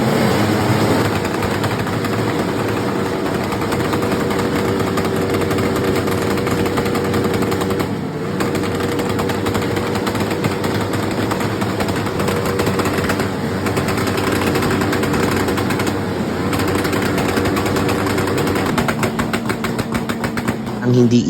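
A motorcycle engine at a motor show, running hard and being revved continuously while smoking, loud and close with a dense, rough drone and a brief dip partway through; a voice talks over it.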